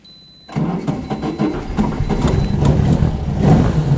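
An Alfa Romeo 33 race car engine cranks and catches after a short quiet moment, then runs with a loud, rough, close idle that pulses unevenly and slowly builds.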